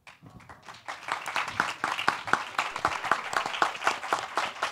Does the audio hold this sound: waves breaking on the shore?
no